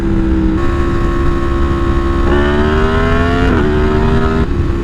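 Yamaha MT10 motorcycle engine revving hard while accelerating through a wheelie, loud and close, its rising pitch broken by a sharp quick-shift into third gear, with no talk.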